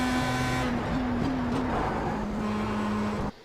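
A Pro Mazda race car in the iRacing sim at the Nürburgring brakes hard and downshifts to third gear, its steady loud engine drone dipping in pitch through the shifts before cutting off abruptly near the end.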